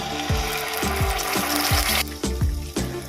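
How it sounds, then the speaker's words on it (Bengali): Whole cumin seeds frying in a pan with ginger and green chilli paste for a vegetarian curry, a steady sizzle broken by regular scraping stirs about every half second, close and fairly loud. "কয়েক সেকেন্ড এটা ভালো করে ভেজে নেব"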